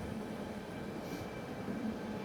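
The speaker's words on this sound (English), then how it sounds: "we had to wait for this train to pass before we could go ahead and maneuver onto that track" A White Pass railway train rolls past at steady, moderate volume, a continuous low rumble with faint tonal hum and no voices.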